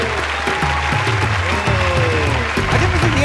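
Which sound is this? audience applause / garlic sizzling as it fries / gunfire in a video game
audience applause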